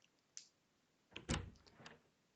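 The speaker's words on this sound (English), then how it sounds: "I was suddenly startled by a knock at the door." Knocking at a door in the visual novel game Chaos;Child: a faint tap, then a heavier thudding knock followed by a couple of lighter raps, with no one speaking.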